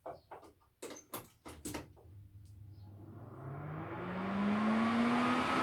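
A Charnwood Micro Clean MC420 air filter starts up in a workshop, its motor spinning up into a steady, rising whoosh of airflow that grows louder and fills the space after some brief knocks and handling clatter at the start.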